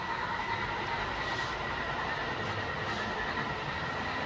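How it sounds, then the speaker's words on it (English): A model train on a home layout rolls through a helix on the Reading Catawissa Branch, giving a continuous steady rumble with faint wheel clatter and a thin high squeal, unbroken and without voices. "And momentarily, the train will exit the helix"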